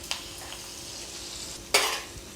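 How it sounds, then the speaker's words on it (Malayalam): Dried red chillies go into hot oil where mustard seeds are already popping. Soft sizzling runs underneath, with a sharp burst of spattering as the chillies hit the pan and a small clatter near the start. "നമുക്കിതിലോട്ട് വറ്റൽമുളക് പൊട്ടിച്ചതും കൂടെ ആഡ് ചെയ്ത് കൊടുക്കാം."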